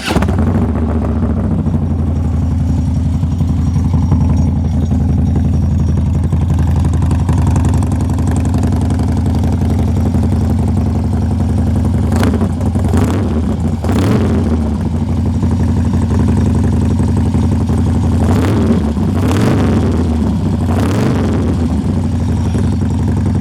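A 2014 Harley-Davidson Road King Custom bagger by Pickard USA, its engine running at a steady loud idle with a deep, loping rumble throughout, and a few brief sharper blips partway in.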